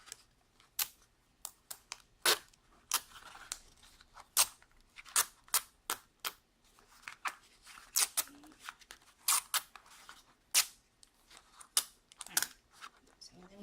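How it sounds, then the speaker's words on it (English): Sharp, quiet snips and clicks of scissors cutting washi tape around the edges of a treat box, scattered irregularly over the stretch against a near-silent background. "So I'm just going to snip that off."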